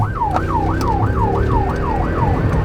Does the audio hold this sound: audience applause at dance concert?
no